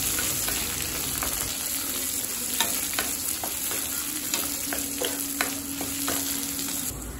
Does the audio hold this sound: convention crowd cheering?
no